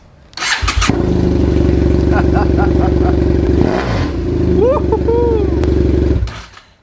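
BMW F800GS motorcycle engine running with the exhaust pipe removed, a loud, raw, close-up clattering drone that starts abruptly, holds steady with a brief dip midway, then cuts off; faint voices can be heard over it.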